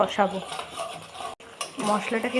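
A spoon stirs and scrapes a spice mixture of turmeric powder, slit green chilies, sugar and Kashmiri chili powder in a pan for aloo dum. Close metallic scrapes and clinks come in bursts while someone talks over them.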